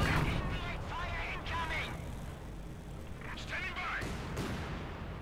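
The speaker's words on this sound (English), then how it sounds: "About to get, well, swatted into the ground here by the mortar half-tracks." Mortar half-tracks firing in the video game Company of Heroes 2, several booming thumps and blasts at modest level, mostly buried under a commentator's steady talk.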